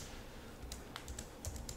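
Someone types a terminal command on a computer keyboard, with soft, quiet keystroke clicks arriving in small irregular bursts and finishing in a slightly firmer press, alone in a quiet room.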